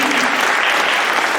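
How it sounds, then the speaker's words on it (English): A crowd gives a brief burst of dense, even clapping at a local election debate event in Gateshead. "Round of applause."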